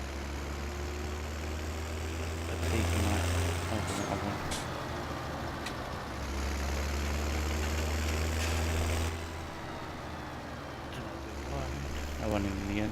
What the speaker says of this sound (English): Turn on the engine.